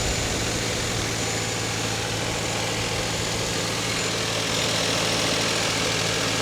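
A car engine, low on coolant, idles steadily close by, with a constant low rumble and a mechanical hum, unbroken and without talk.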